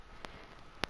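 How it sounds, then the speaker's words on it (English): A sick house cat sneezes twice in a quiet room: a soft, short burst, then a sharper, louder one about half a second later. "That was my cat sneezing."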